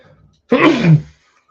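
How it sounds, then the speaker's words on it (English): A single sharp sneeze bursts out close to the microphone, loud and brief, with quiet before and after. "wish I didn't sneeze on camera."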